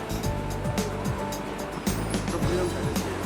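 Ocean surf at a beach in Bali, Indonesia, a steady loud roar of breaking waves and rushing water, with repeated low thumps and a brief swell of wash partway through.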